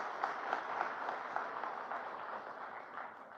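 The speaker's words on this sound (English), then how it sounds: "a huge round of applause to all of you" Faint, distant round of applause from a large room full of young people, an even, continuous patter of many hands without voices over it.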